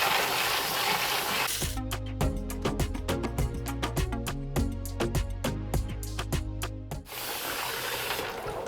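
Fresh running water streams steadily from a tap onto LECA clay balls, with a hissing pour and rhythmic clatter of something being filled, close and loud.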